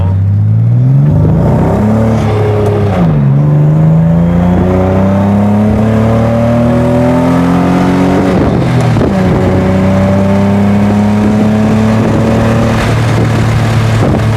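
A BMW E36 engine revs steadily while driving on a test drive, its pitch climbing and dropping through several gear-like sweeps, loud and close throughout with no talking.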